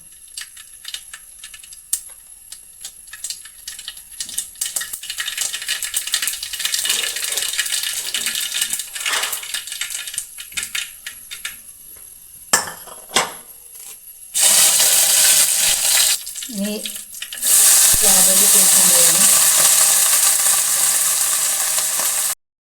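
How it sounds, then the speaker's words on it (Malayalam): Mustard seeds pop in hot coconut oil, starting as scattered sharp crackles and snaps that grow busier, then give way to louder bursts of dense sizzling close by, with no talking. "ഇതിലേക്ക് കടുക് പൊട്ടിക്കാൻ പോവുകയാണ്"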